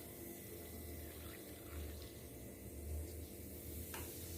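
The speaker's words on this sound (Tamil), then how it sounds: "திரும்ப இன்னும் கொஞ்சம் தண்ணி ஊற்றலான் இருக்கேன்." Steady running water, like water being poured from a tap, flowing continuously with a low rushing sound and a few faint clinks.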